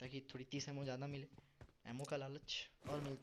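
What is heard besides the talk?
No everyday noises stand out.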